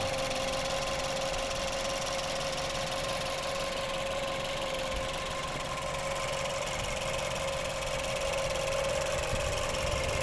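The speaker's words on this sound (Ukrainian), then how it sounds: "робота двигуна самого" A 2011 Mazda 6 2.0-litre petrol engine with automatic transmission idles steadily close by, with a constant hum and faint vibration that holds the whole time.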